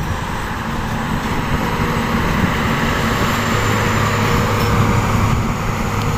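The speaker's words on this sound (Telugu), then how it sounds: "Karimnagar to Mumbai train" A Karimnagar-to-Mumbai train passes near Karimnagar railway station, making a steady, loud, broad rumbling roar that holds without a break.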